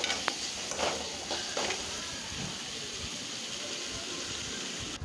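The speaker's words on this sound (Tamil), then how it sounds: "சேர்த்து நல்லா வந்து தக்காளி, வெங்காயம் எல்லாமே வந்து வதங்கட்டும்." Tomatoes and onions sauté in oil in a pan for a pepper chicken, giving a steady, moderately loud sizzle with a few soft stirring scrapes near the start.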